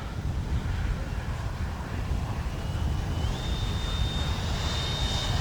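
A KM Models Afterburner jet making a pass in the FMS flight simulator, a steady loud roaring engine rush with a thin rising whine coming in partway through.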